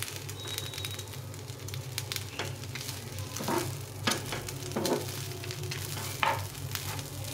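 Rice frying in ghee in a pan for a temple bhog dish, a steady close sizzle with scattered crackles and a few louder bursts as the grains are stirred, no voices.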